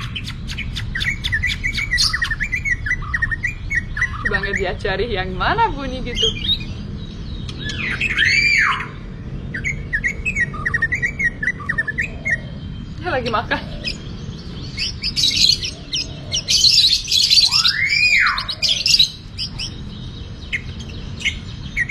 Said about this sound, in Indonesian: cari video di YouTube dengan burung murai lagi yang nyanyi ya, yang nyanyi, yang nekek, yang bersuara